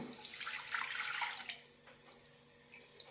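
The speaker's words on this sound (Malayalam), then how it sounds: "പാനിലേക്ക് ഒരു കപ്പ് വെള്ളം ഒഴിക്കാം" Water pours steadily into a pan for about a second and a half, then stops, leaving quiet clinks and faint drips.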